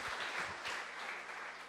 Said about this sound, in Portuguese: Quem pode aplaudir a Deus e bradar de vitórias?